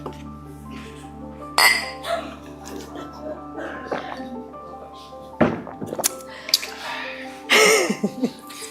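Glasses clinking together in a toast, several bright chimes in bursts with people talking around them.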